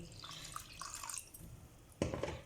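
Water poured over semolina soaking for Makhandi halwa, a soft trickle and drip into a bowl near the mic, growing louder and splashier in the final half second.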